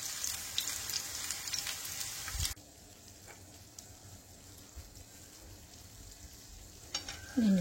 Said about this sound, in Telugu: మీడియం ఫ్లేమ్లోనే ఫ్రై చేయాలి.